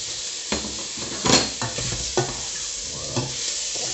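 Beef, bacon lardons, onion and carrot sizzle in a pot for a beef bourguignon, with steady frying hiss and several scraping stirs of a utensil against the pot.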